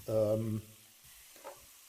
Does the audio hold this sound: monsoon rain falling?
no